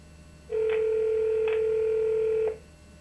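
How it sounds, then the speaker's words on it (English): A single steady telephone ring tone on a call, one sustained buzz of about two seconds starting and stopping cleanly over quiet background. "It's ringing."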